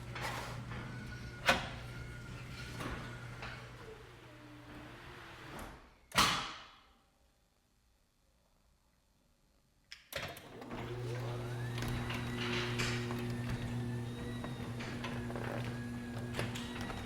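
Residential garage door with no quieting kit installed, running with a steady mechanical hum and rattle, broken by a sharp clunk and a quiet pause before the motor noise resumes.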